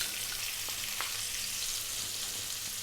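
Sliced onion frying in oil with dried red chilies and cardamom, a quiet, even sizzle with a couple of faint stirring clicks, continuous and steady.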